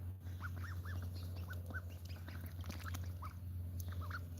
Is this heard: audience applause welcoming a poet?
no